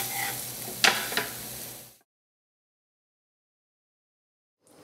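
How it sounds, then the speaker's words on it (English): Broccoli sautéing in olive oil in a pan, a steady sizzle with a couple of sharp stirring clicks for about two seconds, then silence until a faint return at the very end. "And saute for about 2 minutes to warm it through."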